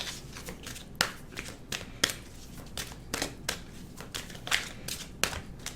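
Angel cards are shuffled by hand at close range, giving repeated crisp riffling and snapping bursts at an uneven rhythm, fairly quiet, with no voices.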